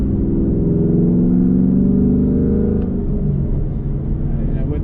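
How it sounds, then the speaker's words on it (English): A deep, rumbling V8 exhaust with an X-pipe on a 2022 Ford Mustang Mach 1 burbles steadily up close, its low throb easing slightly as the engine settles after a downshift. "little bit louder exhaust that this one has"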